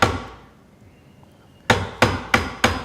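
Four sharp, evenly spaced hammer blows drive a Marples splitproof chisel into wood, each loud and close with a quick decay, following a fading earlier strike and a quiet pause.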